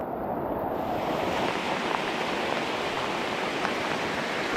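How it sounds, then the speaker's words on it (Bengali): Heavy rain falling in hilly countryside, a dense steady hiss of downpour heard close and continuous, with occasional louder drops spattering nearby. "কারণ বৃষ্টি বেশি হচ্ছে"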